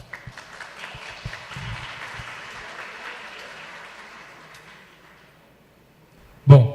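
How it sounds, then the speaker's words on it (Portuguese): Applause from the audience at a citrus industry conference, right after a speaker is introduced for a talk on post-harvest costs. It starts fairly loud and slowly fades to silence, then a short loud thump comes at the end. "Senhoras e senhores, uma salva de palmas."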